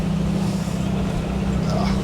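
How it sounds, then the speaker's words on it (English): A sailboat motors under engine power across the North Sea toward Shetland, a steady low engine drone with rushing water as the hull pounds into waves, close and continuous. "We're going for engine now. And that's a little harsh. We're pounding towards the waves there."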